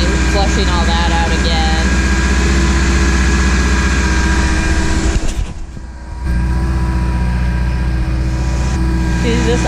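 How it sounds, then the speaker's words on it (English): A Ford XR4Ti race car engine idles loudly up close with a steady low rumble and a brief dip in the middle, while someone talks over it. "She's just idling right along,"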